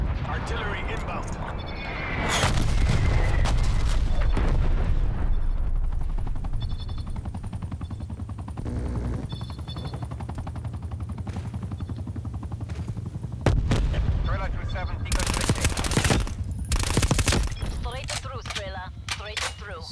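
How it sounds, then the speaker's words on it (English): Incoming artillery strike in the shooter game Black Ops Cold War, heavy rumbling blasts and sharp cracks building through the middle and end, loud and close, with bursts of gunfire and someone talking over parts of it. "Artillery inbound."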